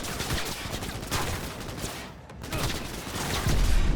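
Rapid automatic gunfire from the video game Cyberpunk 2077 rattles in dense bursts, loud and close, with a brief pause midway before the shooting resumes and grows heavier.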